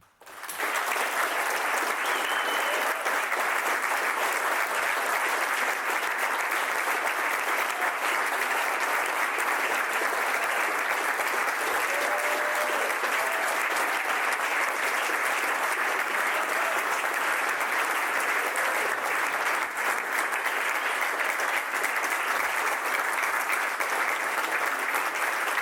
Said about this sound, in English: let's give Rick Zbur a really great applause